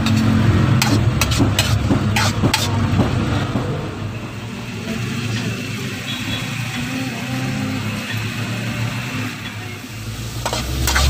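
Spicy mussels cooking down in oyster sauce with Sprite, stirred in a pan until dry: a steady, close sizzle and frying hiss with a burst of scraping stirring clatter early on, continuing without talk.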